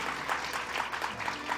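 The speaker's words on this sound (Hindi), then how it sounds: "एक बार जोरदार तालियों से उनकी भावना का सम्मान करिए।" Brief burst of audience clapping during a spiritual discourse in India, a continuous patter of many hands at moderate volume, fairly distant and diffuse.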